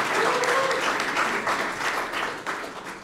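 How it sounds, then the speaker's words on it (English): A steady wash of audience applause fills the room at a swearing-in ceremony for the new U.S. Surgeon General, sustained and fairly close, with faint voices mixed underneath. "Everybody give Jalen a round of applause"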